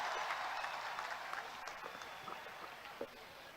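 Audience applause for a silver-medal wrestler at a public program, a dense wash of clapping that starts strong and slowly fades, heard from a moderate distance.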